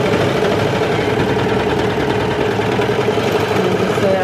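A Brother 1034DX serger stitches a seam on a baby romper for a 3–6 month size, giving a steady, loud mechanical whir with a fast rhythmic clatter that runs without a break from start to finish.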